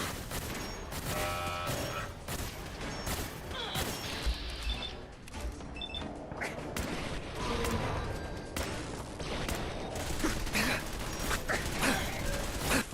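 Turrets firing in a robot-themed video game, a dense run of sharp, rapid shots and mechanical clatter layered over one another, loud and continuous throughout.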